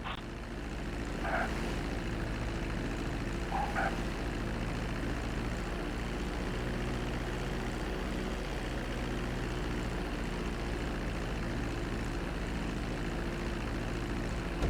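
Steady propeller airplane engine drone during a landing approach in GTA V, loud and continuous with a constant low hum throughout, no talking.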